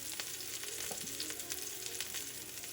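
Cabbage rolls frying and browning in a pan, a soft continuous sizzle with occasional faint crackles and a light clink, no talk.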